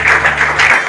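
Audience at a school send-off ceremony for 10th and 12th standard students clapping together in a brief, loud burst of applause.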